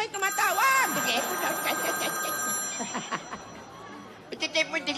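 A telephone rings with a bright electronic trill in a busy room, repeating bursts near the start and again at the end, heard beneath overlapping chatter and background voices.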